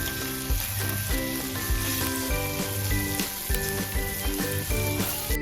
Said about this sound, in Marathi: आलं लसूण पेस्ट, सगळं व्यवस्थित भाजून घेऊया.